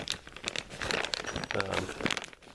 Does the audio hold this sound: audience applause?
no